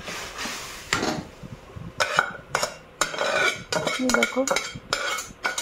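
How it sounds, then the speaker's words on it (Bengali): Curry poured into a hot oiled kadai and stirred, with loud metal clatter and scraping of a spatula against the pan in irregular bursts, close up, with a brief spoken word. "এবার তরকারিটা ঢেলে দিচ্ছি"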